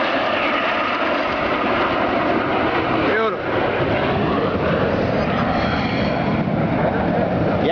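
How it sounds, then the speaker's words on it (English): Canadian T-33 jet trainers fly past in formation at a lakeshore air show, producing a loud, continuous roar that swells and shifts in pitch midway as the jets pass. "Give me a nice top side view of the T-33s in formation right there."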